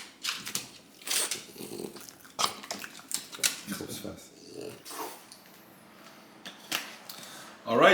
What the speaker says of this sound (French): Un chien est content d'avoir ses croquettes.